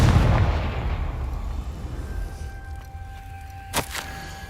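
A Confringo explosive spell blast in Hogwarts Legacy on PlayStation 5 opens with a loud booming burst that decays into a rumbling tail, followed by a couple of sharper crackling hits near the end.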